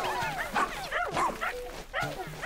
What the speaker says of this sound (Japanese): 吠えろ吠えろ、こっちに吠えるんだ。